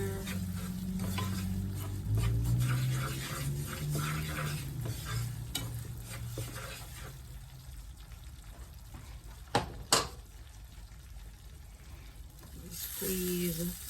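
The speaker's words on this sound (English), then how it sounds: "So keep stirring your sauce so that the sugar and the butter doesn't burn" A butter and sugar sauce stirred in a pan on the stove, soft sizzling with scraping strokes, a voice talking over the first part, and a couple of sharp knocks near the end.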